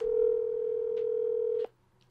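Telephone tone heard while placing a call, one steady loud pure tone lasting under two seconds that cuts off abruptly with a click, then near silence.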